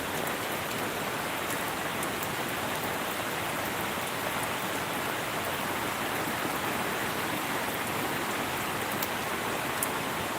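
Heavy morning rain of the Thulam monsoon pours down in a broad, unbroken hiss, steady and enveloping for the whole stretch, with no voices.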